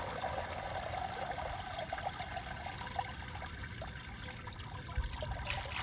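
Maple sap draining through a dish towel filter, heard as a steady soft trickle of liquid that runs on without a break.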